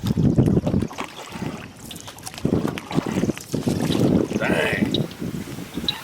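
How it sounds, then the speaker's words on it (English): Strong gusts of wind buffet a canoe on a lake during cloudy, stormy bass-fishing weather, roaring in heavy rumbling surges against the microphone, with a man's brief exclamation in the middle. "Like a storm's blowing through."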